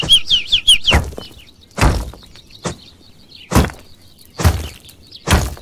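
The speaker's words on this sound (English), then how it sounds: "So many birds" Birds chirp in the survival game Rust: a quick run of high chirps opens, then a faint, steady twitter carries on beneath loud, regular thumping impacts.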